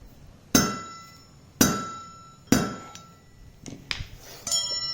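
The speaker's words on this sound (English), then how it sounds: "just hit it with a mallet in this flathead a couple times" Mallet striking a flathead screwdriver to drive out a front wheel bearing on a 400ex ATV: three sharp, ringing metallic hits spaced about a second apart, followed by lighter quicker taps, close and alone.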